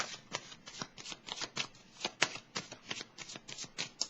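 Tarot cards being shuffled and handled, close and crisp, with a rapid series of riffling flicks and slaps in an uneven rhythm and no voices.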